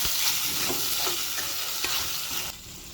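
Green chilli, curry leaves, ginger and salt fry together in a pan for a ginger curry, a steady close sizzle broken by repeated scraping stirs, then dropping quieter near the end.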